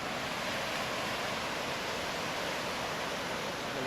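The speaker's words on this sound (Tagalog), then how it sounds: "Malakas ng alon" Strong ocean waves roar on a beach at San Juan, San Fernando, a continuous loud wash of surf and spray with no break, no voices.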